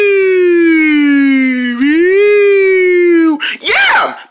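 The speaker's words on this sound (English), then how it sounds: "It sounds like a siren!" A loud car siren wails steadily, its pitch sinking slowly then swelling again, before cutting off into a short, warbling burst of voice-like sound.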